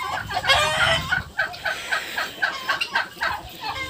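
Turkeys and chickens cluck while eating greens, giving a close, rhythmic run of short repeated clucks and gobbling notes with no pause between them.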